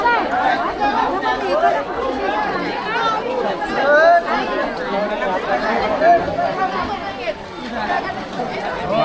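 Dense overlapping chatter of many voices at a busy Sunday village market in Sakharpa, close and continuous, with no single voice standing out for long.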